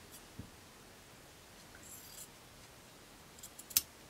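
Scissors or a rotary cutter trim a quilt fabric square for a table runner, giving soft, faint snipping and rustling, with a few sharper clicks near the end.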